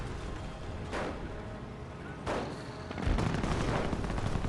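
A Nebelwerfer rocket barrage crashes down in a WWII strategy game, a dense continuous rumble of explosions and gunfire with sharp blasts at intervals that grows heavier toward the end.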